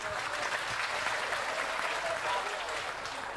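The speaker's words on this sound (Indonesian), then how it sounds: "Tepuk tangan sih Caruban." An audience at a religious talk given by a police officer breaks into sustained clapping, a dense, even wash of many hands with voices mixed in.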